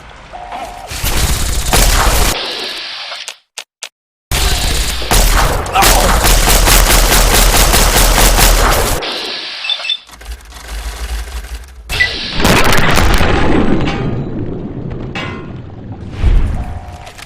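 Gunfire in the video game Fallout 3 fills long loud stretches of rapid automatic bursts and booming shots, broken by brief silent gaps and quieter lulls, up close and with no talking.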